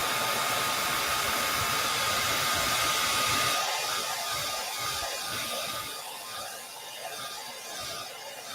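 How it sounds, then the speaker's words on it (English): A handheld hair dryer blows on wet paint to set it, giving a loud, steady rushing whir that eases slightly partway through and keeps running to the end. "you can run a hair dryer on it"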